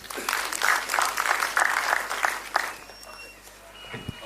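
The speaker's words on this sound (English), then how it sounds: "Let's give him a round of applause." A crowd at a funding pitch meeting claps in a dense burst of applause that fades out after a few seconds, leaving quiet room noise.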